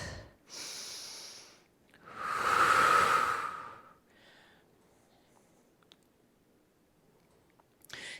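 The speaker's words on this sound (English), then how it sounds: "Got to breathe a little bit here." Heavy breaths after planks: a sharp exhale, then a long, loud breath peaking in the middle, followed by quieter breaths and a short puff at the end, close to the microphone with silence between.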